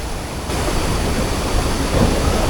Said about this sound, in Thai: น้ำตกแบบเป็นชั้นๆแล้วก็น้ำไหลแรงมากๆ